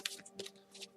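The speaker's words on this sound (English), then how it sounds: "I like to shuffle quietly." A deck of tarot-style cards shuffled quietly by hand during a card reading, giving a short, soft burst of riffling and sliding card noise, close and faint.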